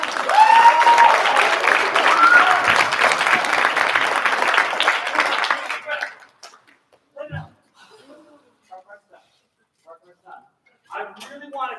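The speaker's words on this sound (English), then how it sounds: "Can we give them another round of applause?" An audience applauds an 8th grade choir at a preview concert, steady loud clapping for about six seconds, then it stops and a speaker talks.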